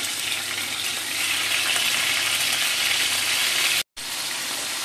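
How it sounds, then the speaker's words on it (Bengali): Fish are frying in hot mustard oil, giving a loud, dense, steady sizzle close by that runs without a break until a brief cut near the end. "তেলটা আমার গরম হয়ে গেছে, আমি মাছগুলো দিয়ে দিচ্ছি।"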